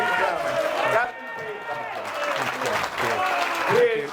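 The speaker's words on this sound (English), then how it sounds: "Please, your applause, Gavin Peacock." An evening event audience applauding former footballer Gavin Peacock, sustained clapping from a crowd with a voice speaking over it.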